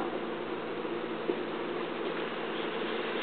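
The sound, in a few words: honeybee from a beehive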